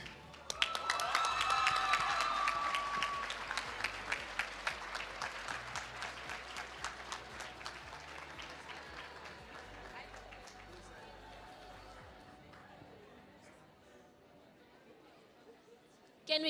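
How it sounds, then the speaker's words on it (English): An audience at a national ICT summit applauds the second-place winners, a loud burst of clapping that slowly thins and fades over several seconds, with chatter mixed in. "Can we give them another round of applause"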